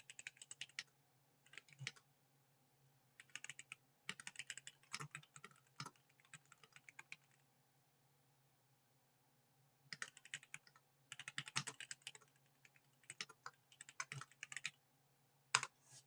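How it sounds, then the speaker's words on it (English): Bursts of computer keyboard typing during a live stock-chart analysis session, clicking in quick irregular flurries separated by quiet pauses, close and moderately loud with a faint steady hum underneath. "By the way, I'm typing this."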